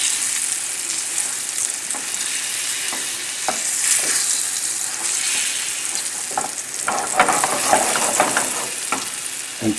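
Salmon with rosemary sautés in a hot, smoking pan, a continuous crisp sizzle with occasional scraping and stirring clicks that grow busier toward the end.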